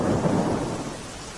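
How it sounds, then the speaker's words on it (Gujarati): A dense, roaring wash of heavy rain in Amreli district, Gujarat, fills the whole moment, loud and continuous with a low rumble underneath. "અમરેલી જિલ્લામાં ધોધમાર વરસાદ વરસી રહ્યો છે"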